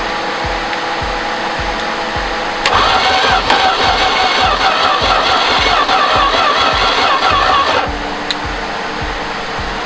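A Slant Six engine cranks on a start attempt, its starter churning steadily and loudly, with a heavier, rougher stretch in the middle before easing back to the lighter cranking drone.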